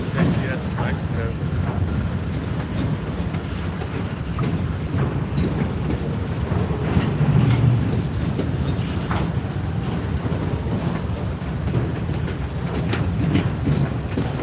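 A Norfolk Southern freight train with auto racks rolls past close by, a continuous loud rumble with rattling wheel and rail noise that holds steady throughout.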